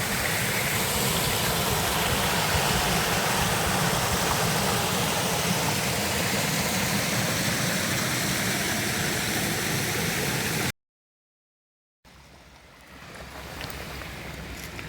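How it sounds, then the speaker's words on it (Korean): Mountain valley stream that flows year-round rushes in a dense, steady wash of water for about ten seconds, loud and close, then drops out before fainter water noise returns. "이거는 사계절 흐르는 물이네."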